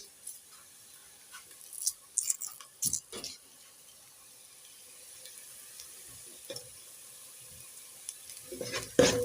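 Beans being stirred in a cooking pot seasoned with a Royco cube: intermittent scraping and clacking strokes in bursts, with a soft simmering sizzle underneath and a louder clatter near the end.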